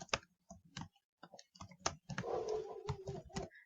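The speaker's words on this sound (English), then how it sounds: "So you just type in your email, you hit next, and then you enter your password" Someone types an email address on a computer keyboard to log in, a burst of close, crisp key clicks in uneven runs with short pauses and a faint background hum.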